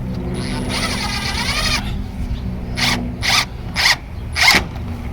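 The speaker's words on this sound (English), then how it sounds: "see if I can put in a couple screws right about here" Screws being driven into a greenhouse frame with a power driver: a sustained whirring run followed by four short separate bursts, close and fairly loud over a steady low background hum.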